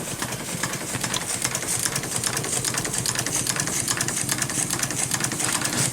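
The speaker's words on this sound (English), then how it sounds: "She's getting up steam like this as well, because she's turning faster and faster." A miniature SAR class 15F steam locomotive runs in steam with a fast, even chuffing and mechanical clatter that keeps going without a break. The sound is close and moderately loud, with no voices.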